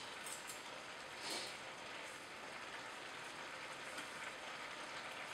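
Coarse sea salt sprinkled over purple cabbage, a steady gritty patter like light rain filling the whole clip at low level, with no talk.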